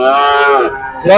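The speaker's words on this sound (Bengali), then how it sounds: "কত সুন্দর সুন্দর গরু দেখুন" A cow at a cattle market in Monirampur, Jessore gives a single loud, close moo lasting about a second, with a rising tail at the end.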